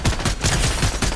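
Rapid gunfire bursts in the video game Fortnite, several punchy volleys in quick succession over a second or so, loud and close.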